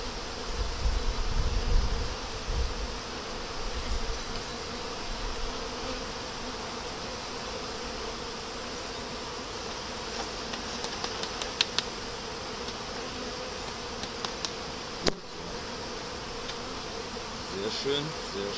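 Honey bees hum at an open beehive, a dense continuous buzz close by with a few brief rustles and a sharp click, nobody speaking.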